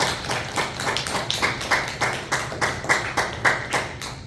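A church congregation claps in a steady, even rhythm during a Sunday service, the sharp hand claps close and lively, with no talking over them.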